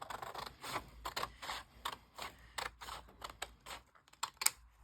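Scissors cut through a paper junk mail envelope in a run of quick, close, faint snips and crisp paper rustles, with no talking.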